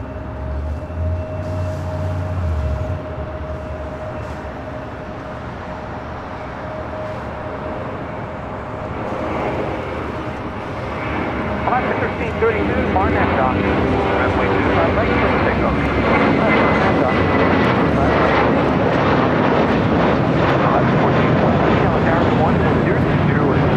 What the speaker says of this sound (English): Our next takeoff is United Airlines Flight 1416, heading to Houston, Texas, an A320.